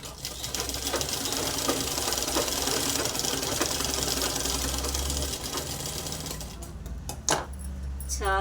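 Sewing machine stitching the side seams of a crop top, a loud, continuous rapid whir with a brief pause and clatter near the end, no one speaking.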